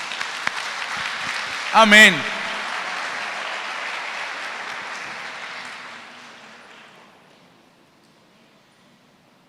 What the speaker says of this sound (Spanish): Denle un aplauso para mi Señor.